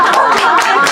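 Applause from a small audience at a lecture discussion, a dense patter of hand claps filling the whole moment at steady, fairly loud level.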